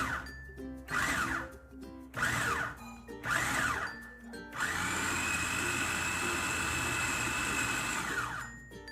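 A food processor motor whirring at a common speed, starting in short repeated pulses before settling into a steady, loud continuous hum close to the microphone.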